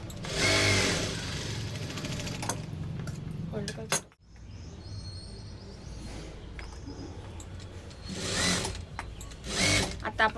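A sewing machine runs in steady bursts while stitching tucks into a size 32 blouse, a loud motor whir with a short pause near the middle and later spurts of stitching.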